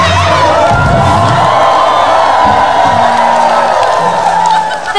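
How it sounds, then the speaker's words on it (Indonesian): A live audience claps and cheers loudly at an event, a dense continuous roar of applause with whoops and shouts filling the whole stretch and easing slightly at the end. "Terima kasih untuk tepuk tangannya."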